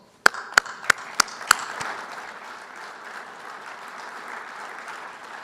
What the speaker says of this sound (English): let's give all of you a great round of applause